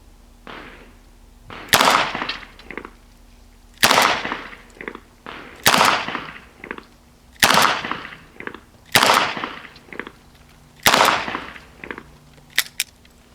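Six loud, sharp gunshots from a Taurus 608 stainless revolver, fired at an unhurried, fairly even pace about two seconds apart, each crack followed by a short echoing tail and small handling clicks, no one speaking.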